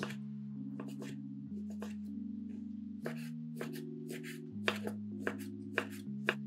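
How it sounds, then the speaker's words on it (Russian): Knife chopping 200 grams of ham into cubes on a cutting board, a steady series of close, crisp cuts in quick bursts, heard alone over soft background music. "200 грамм ветчины точно так же нарезаем кубиками."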